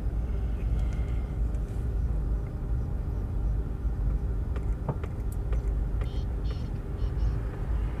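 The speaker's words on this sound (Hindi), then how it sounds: "तो आप देखेंगे हमारी गाड़ी चल रही है।" A car drives at normal speed on a road, a steady low engine and road rumble heard from inside the cabin, with a few faint clicks and knocks over it.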